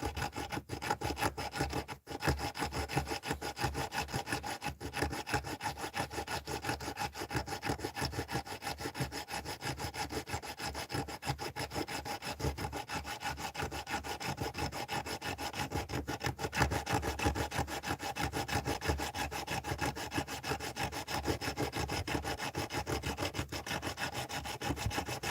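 Steady, continuous rasping of a saw or file working through a metal lock, close and loud, with a rhythmic back-and-forth stroke throughout and no talking.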